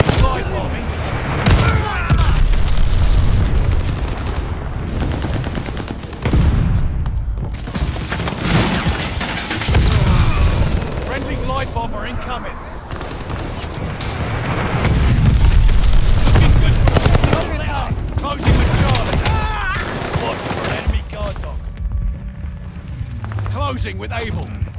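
Bombing run from an enemy spy plane in the World War II shooter Call of Duty: Vanguard, a dense rumble of booms and gunfire bursts rolling through the whole stretch, with in-game voice callouts over the barrage.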